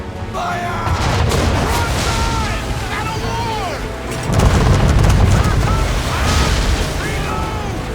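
Ship cannons firing during a naval battle in Assassin's Creed 3: heavy booming blasts roll over continuous battle noise and shouting crew, with a stronger burst of gunfire about halfway through.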